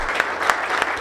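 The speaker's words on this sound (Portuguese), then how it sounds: "Uma salva de palmas para os debatedores." Audience applause for panel debaters at a sports governance and transparency event, a short burst of dense, steady clapping from a crowd.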